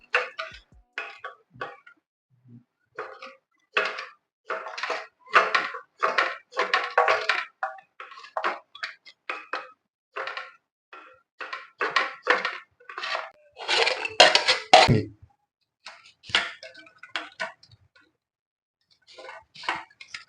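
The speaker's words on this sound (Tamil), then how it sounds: "முதல்ல பாருங்கள் இஞ்சி வெட்ட போகிறோம்" A knife chops ginger on a cutting board in quick bursts of sharp taps, pausing between runs, close and clear with no talking.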